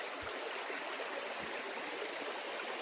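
A small creek at Big Hill Springs flows around a boulder, giving a steady, close rushing and trickling of water that fills the whole stretch, with two faint low thumps near the start.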